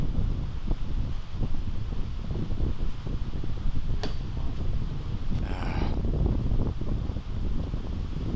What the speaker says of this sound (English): Got that right to left wind